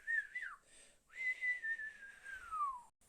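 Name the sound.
person whistling imitating a flute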